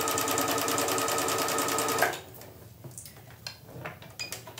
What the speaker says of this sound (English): now that I've finished overcasting the edges of my pieces